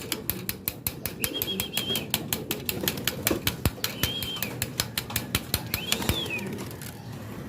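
Pigeons burst out of an opened loft, a flurry of rapid wing flaps beating in quick repeated pulses, with a few soft coos and calls drifting in the background at moderate distance.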